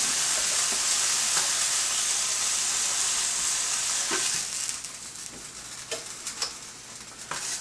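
Pork schnitzel frying in a hot pan: a steady, close, dense sizzle that fades to softer crackle with sharp ticks and pops in the last few seconds, no talking.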